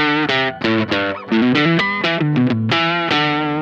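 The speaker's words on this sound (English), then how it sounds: "If you don't have too much distortion, then probably it's still cool to play on the neck pickup in low position." An electric guitar on the neck pickup in low position with light distortion plays a run of sustained, thick-toned notes, loud and close, with no talking.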